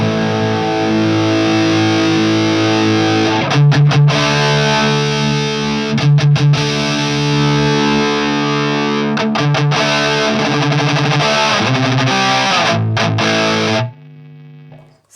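High-gain electric guitar through a Peavey Triple XXX amp into a Marshall 1960AV cabinet miked with an SM57, EQ controls all maxed: loud, saturated distorted chords ringing continuously with brief choppy stops, then cutting off near the end.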